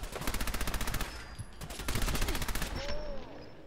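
Rapid automatic gunfire from a gun in Fallout 4, a fast even burst of loud shots that stops briefly and then resumes in a second volley, with no talking.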